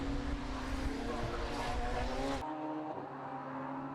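A Radical race car crossing the finish line at Donington during a championship race, engine roaring loud and steady with dense broadband noise that drops abruptly partway through, leaving a softer engine drone under faint commentary-like voice.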